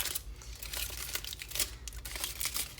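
Aluminum foil being crumpled by hand into a small sculpted figure gives a continuous close-up crinkling and crackling with no pauses.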